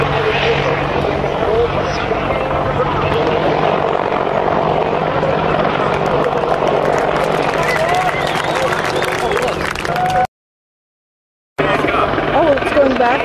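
An attack helicopter flies and maneuvers overhead, its steady rotor thrum and turbine whine loud and continuous with a crowd murmuring beneath, broken by a brief dropout near the end before the rotor noise returns.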